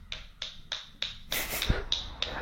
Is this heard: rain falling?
no